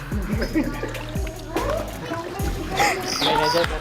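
Water is poured and sloshes while cassava is washed during tapai making, with uneven splashes and trickles close by under people talking.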